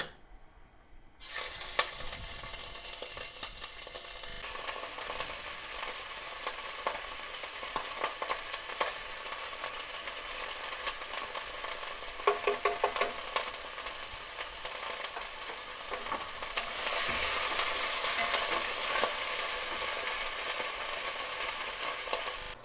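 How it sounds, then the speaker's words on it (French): Meat browning in a pot for Senegalese rice with onion, garlic, ginger and bay leaf, a steady bright sizzle that starts abruptly after a second, with occasional stirring scrapes and a slightly louder frying stretch near the end. "Je vais laisser mijoter la viande et faire dorer les différentes faces de la viande."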